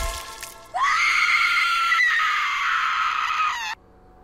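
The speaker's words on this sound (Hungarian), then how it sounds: "Azért még sikított egyet." A long, shrill scream from a victim in the video game Friday the 13th: Killer Puzzle, rising sharply and holding for about three seconds before cutting off abruptly.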